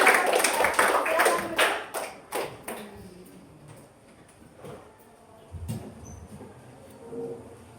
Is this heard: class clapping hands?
yes